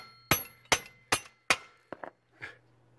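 A brick used in place of a hammer taps a motorcycle fork part into place, giving four evenly spaced, sharp, ringing knocks, then a couple of lighter taps and one softer knock, close and alone.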